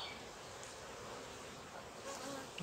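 A steady, low insect buzz from many honeybees at a hive hums continuously, fairly faint and even, with no voices.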